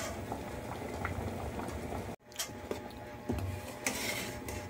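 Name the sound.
mung beans boiling in a pot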